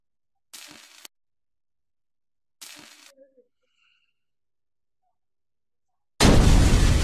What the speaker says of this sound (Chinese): 您受到了灌顶焊接爆炸的伤害